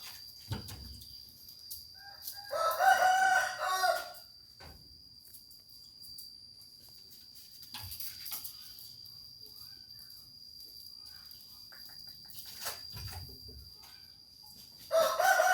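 A fighting-breed rooster crows twice, loud and near, once early and once at the end. Faint clucks, crickets and a steady insect whine fill the quiet between the crows.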